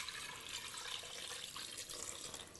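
Two and a half cups of 2% milk pour steadily into a bowl of coconut cream pie filling, a soft continuous hiss and trickle that stays quiet and even, with no voices over it.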